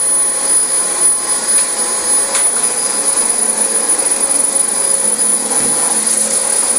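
Dyson DC25 upright vacuum cleaner running on a really dirty carpet, a loud, steady high-pitched motor whine with airflow roar throughout, close and continuous.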